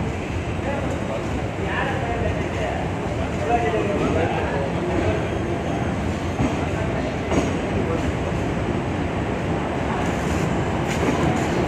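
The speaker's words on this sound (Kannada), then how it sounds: "ಆಲ್ಮೋಸ್ಟ್ 30 ಮಿನಿಟ್ಸ್ ಲೇಟಾಗಿ ಬಂದಿದೆ ಟ್ರೈನು." DEMU train arriving at Kolar station, a steady loud rumble of wheels and carriages running throughout with faint rattling, heard from on board without a break.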